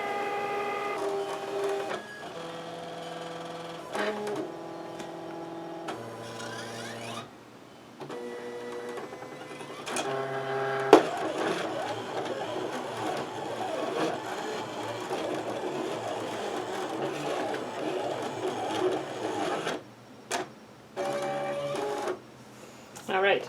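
A Cricut Explore One cutting machine slicing cardstock: stepped motor whirs and tonal carriage movements starting and stopping in quick bursts, then a longer steady cutting run, fairly quiet and close, with a few short pauses.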